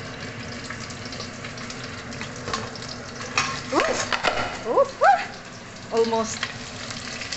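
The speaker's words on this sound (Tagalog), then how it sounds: "Ayun o, yung mantika. Tumatalsik eh." Hot cooking oil sizzles and spits in a pan during frying, a constant crackling hiss with sharper pops and clatter near the middle, while a person talks briefly.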